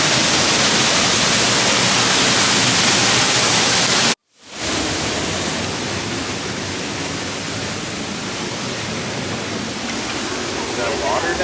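Waterfall beside hiking trails, a dense broadband roar of falling water, loud and constant, briefly cut out for a moment before resuming steadily.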